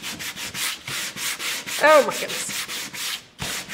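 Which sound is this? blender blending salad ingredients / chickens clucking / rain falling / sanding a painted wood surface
sanding a painted wood surface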